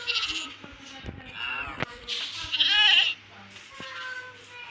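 Goats bleating in the video game Minecraft, several short nasal bleats scattered over a few seconds against a low game hum, one louder bleat near the end.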